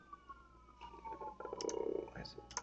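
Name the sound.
mouse clicking in Camtasia screen recorder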